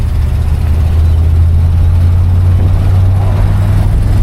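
The V8 engine of a 1966 Oldsmobile Ninety-eight runs loud and close with a deep steady rumble, holding nearly even as light throttle is applied, with no talk.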